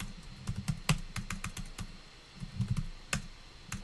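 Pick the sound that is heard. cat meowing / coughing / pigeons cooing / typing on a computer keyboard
typing on a computer keyboard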